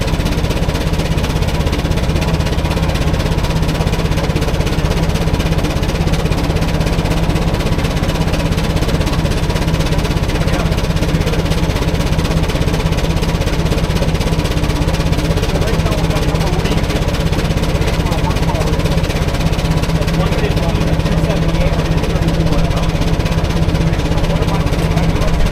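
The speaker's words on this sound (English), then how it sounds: "When that runs, it sounds very different. That double cylinder steam engine" A double-cylinder Gaar Scott 25-75 steam traction engine runs loudly and steadily on a Prony brake, a continuous rumbling, rattling drone that holds throughout without pause.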